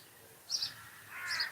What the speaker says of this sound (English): It's being chased by a crow.